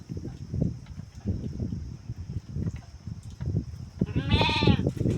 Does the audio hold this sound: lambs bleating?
yes